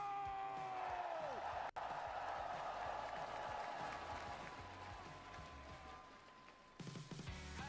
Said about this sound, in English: Let me hear you make some noise. Give it up here for Masters Toronto!